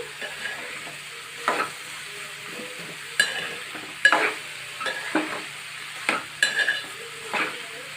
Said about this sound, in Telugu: ఇప్పుడైతే ఉప్పు పసుపు అయితే వేసేసుకొని కలిపేస్తున్నాను